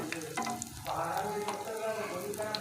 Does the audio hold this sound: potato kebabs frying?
yes